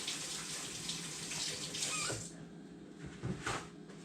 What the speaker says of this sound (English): Wash my hands up.